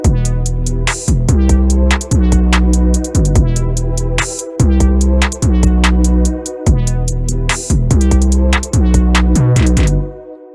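A looping trap beat with booming bass, punchy drums and rapid hi-hats, chords and a lead line repeating in steady bars, loud and upfront with no talking.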